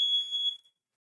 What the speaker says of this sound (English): I had to mute the fire alarm real quick